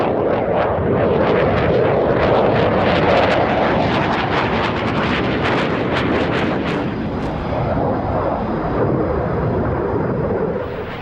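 A Saab Gripen fighter jet, the latest export version, performs a flying display at the Farnborough Airshow, its loud roaring engine surging and rumbling continuously overhead with wind buffeting throughout.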